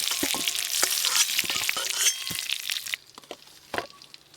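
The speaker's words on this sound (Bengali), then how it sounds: "আমগুলো আগে দিয়ে নেড়ে নিতেই হয়" Mango pieces fry in a pan while being stirred, a steady bright sizzle broken by repeated scraping strokes, loud and close, dropping to quieter crackles and a few clicks near the end.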